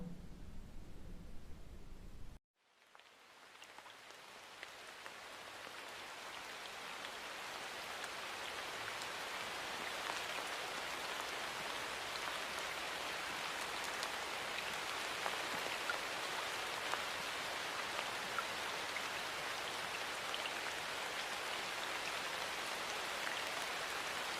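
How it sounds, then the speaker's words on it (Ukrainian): Recorded rain falling, played during a music lesson for an older preschool group: a brief quiet lead-in, then a dense, steady hiss of rainfall that stays even and fairly loud for over twenty seconds. "Тепер давайте ми з вами пригадаємо шум дощу."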